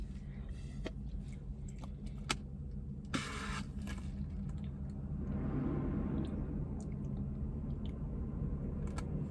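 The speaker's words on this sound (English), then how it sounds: "this truck is literally coming toward me." A truck approaches from a distance, its low rumble swelling and growing louder over a few seconds amid outdoor background noise, with a few clicks and handling sounds up close.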